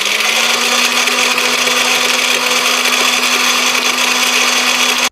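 Electric grinder crushing Pulse candies with salt into powder, a loud, steady, high-pitched whirring motor drone running without a break and cutting off at the very end.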